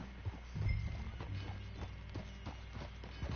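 Horse hooves clip-clopping at a steady walking rhythm during a ride in the video game Red Dead Redemption 2, moderately close, with a low rumble early on and no speech.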